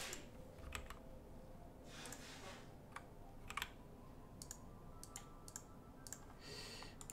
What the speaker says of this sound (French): si je tape mode security